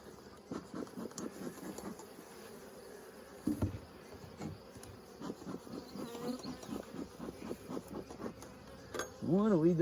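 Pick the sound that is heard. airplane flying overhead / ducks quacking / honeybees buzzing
honeybees buzzing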